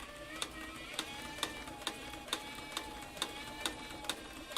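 A Cowboy leather sewing machine stitches through two layers of thick 13 to 15 ounce saddle skirting and shearling, producing a steady, evenly spaced series of about a dozen mechanical clacks at a slow rhythm, close and moderately quiet, with no talking.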